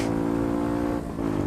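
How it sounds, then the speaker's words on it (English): A car passes close by on a London street, its engine loud and steady with a brief dip in the middle, heard from beside a motorcycle filtering through traffic. "that car is just basically emissions"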